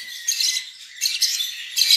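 Baby parakeet chicks squawk in three shrill, raspy bursts, close and fairly loud, with short gaps between them and no talking.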